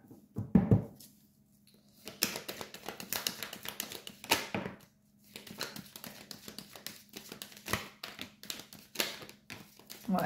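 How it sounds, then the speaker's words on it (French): Tarot cards handled and shuffled on a table close by, heard as quiet, irregular bursts of soft tapping, riffling and slapping with brief pauses between them. "Ok, je remets les cartes."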